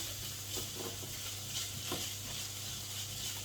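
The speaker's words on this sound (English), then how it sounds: "it's on a medium heat to prevent the beef from burning" Mexican-style beef fries over medium heat in a pan while being stirred, making a constant close hiss with soft, irregular scrapes of the spoon and no voices.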